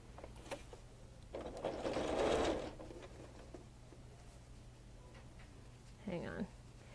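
A sewing machine stitches around the edge of a baby quilt, a short rapid mechanical whirring burst up close, followed by quiet handling and a brief second run.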